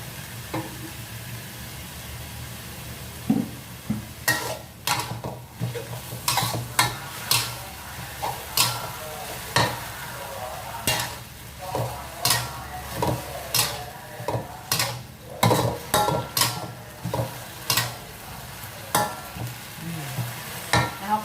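Oyster mushrooms stir-fried and tossed in a pan: a steady oily sizzle is broken by repeated, irregular scraping and clattering strokes of the spatula, close and fairly loud, for about twenty seconds.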